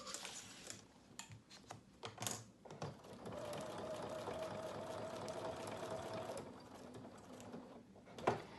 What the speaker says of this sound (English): I'm just going around the entire edge of the picture with a straight stitch in the same complementary color